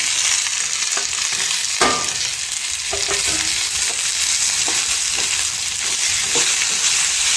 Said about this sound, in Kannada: ಈಗ ಟೊಮೆಟೊ ಹಾಕೋತಾ ಇದ್ದೀನಿ